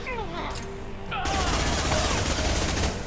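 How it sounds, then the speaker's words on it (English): Blast going off in the sci-fi video game Mass Effect 2 during a boss fight, one loud broadband burst swelling about a second in and holding as a dense roar of fire and debris, with faint game voices underneath. "The explosion."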